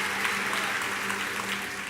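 A congregation in a church service claps together in steady applause, a dense, even wash of clapping with a faint low hum underneath.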